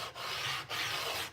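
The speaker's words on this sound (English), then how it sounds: "I'm pretty much just constantly running my hands along the board to make sure there aren't any blemishes that I can't see but I could feel" A hand rubs along a wooden skateboard deck in a workshop, making soft rhythmic rasping strokes, three long sweeps with brief pauses between, faint and close with no talking.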